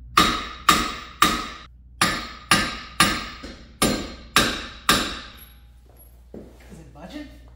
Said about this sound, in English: this should be free and clear to just get whacked out with a hammer now